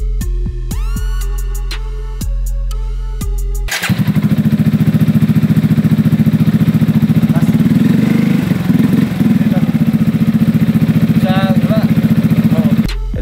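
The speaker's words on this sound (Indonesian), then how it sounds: "ini knalpot slip on ya" Yamaha XMAX scooter fitted with an Akrapovic slip-on exhaust, a chime and silence giving way to the engine starting and idling loudly and steadily up close, with brief talk over it.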